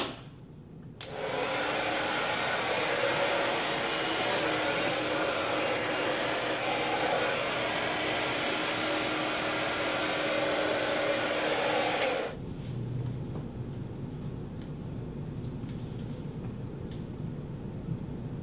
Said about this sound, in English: That's my round brush blow dry.